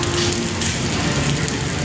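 A thin rain drizzles by the Pasig River Esplanade, giving a constant close wash of hissing patter with no breaks.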